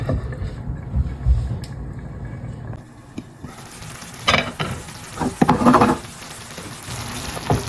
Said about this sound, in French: je vais la laisser 2-3 minutes pour que la sauce elle réduit bien